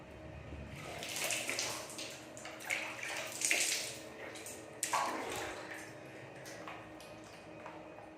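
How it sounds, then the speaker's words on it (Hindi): Tap water runs in a sink while a face is splashed and washed, with a soft continuous flow, irregular splashes and bursts, and a faint voice in the background. "नींद सी आ रही है तो तब तक मुँह धो लेते हैं थोड़ा।"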